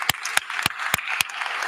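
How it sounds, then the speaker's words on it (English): Audience at a Norfolk State University freshman convocation applauding parents and supporters, sharp claps standing out at a steady spaced rhythm over a softer crowd wash, with a voice speaking faintly underneath. "please stand and give them a round of applause"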